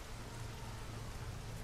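Rain falls steadily in the game Nioh, a dense, even hiss of drops with a low rumble beneath, constant and moderately quiet, with no talk.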